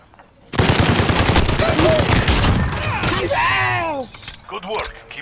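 Sustained SA87 light machine gun fire in a tactical shooter game, loud rapid automatic bursts for several seconds, then trailing off as a voice speaks briefly near the end.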